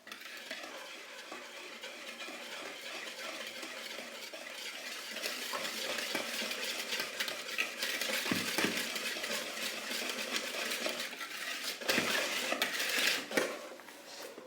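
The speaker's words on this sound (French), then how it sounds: "Et là, je vais mélanger, mais quand même délicatement pour ne pas faire de grumeaux." Flour, baking powder, eggs and sugar gently stirred together in a bowl for a chocolate cake, a steady soft scraping and clinking of utensil against bowl, close and continuous with a few sharper knocks, no talking.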